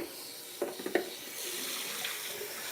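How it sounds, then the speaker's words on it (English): Fresh water runs from a tap into a sink, a steady close hiss with a few splashy gurgles early on, moderately loud and alone, no talking. "Get the water running, get it running through."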